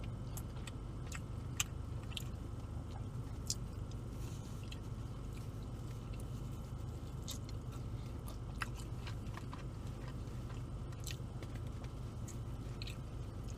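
Someone eating Little Caesars BBQ chicken pizza close to the mic, soft crunching bites and wet chewing with faint clicks scattered over a quiet, steady background hum, no talking.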